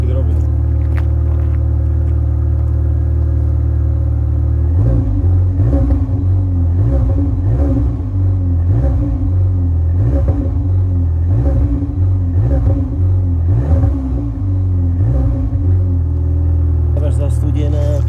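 A cold VW Polo GTI engine rumbles loudly at idle, then is blipped again and again in a rising and falling rhythm while people talk nearby.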